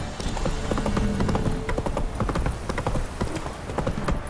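Roach, Geralt's horse in The Witcher 3: Wild Hunt, gallops with steady, loud hoofbeats, a quick rhythmic clip-clop that fills the whole stretch over a game soundtrack bed.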